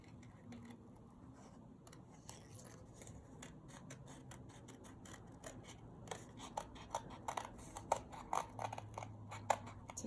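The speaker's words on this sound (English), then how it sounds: "My scissors, I'm going to hold it up, and I'm going to cut starting at the fold" Scissors snip through folded paper around an outline, quiet close cuts that come in a slow irregular series and grow a little sharper toward the end, with no voices.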